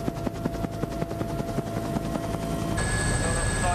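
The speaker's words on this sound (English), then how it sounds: "The only way offshore is by chopper" A helicopter flying out to an offshore oil rig, its rotor beating in a fast, steady thump under a constant engine whine, heard close and loud.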